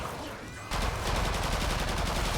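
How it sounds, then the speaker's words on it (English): Rapid automatic gunfire from the video game Killing Floor 2 erupts suddenly after a quieter moment and continues as a loud, dense burst of repeated shots. "I shoot you on the head"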